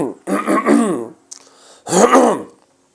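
A man clears his throat loudly twice, two rough, harsh bursts separated by a short pause, close and alone with no talk.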